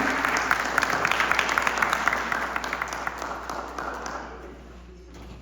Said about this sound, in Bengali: তাদের জন্য কিন্তু অনেক জোরে তালি চাই